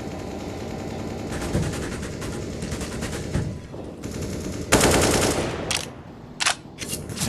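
Rapid SMG gunfire in a Counter-Strike match, bursts of automatic shots running nearly continuously with a sharp louder volley near the end and a few short final bursts.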